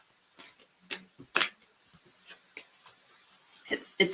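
An oversized deck of cards being shuffled by hand, giving uneven papery riffles and snaps, close and crisp, with brief pauses between bursts while people talk.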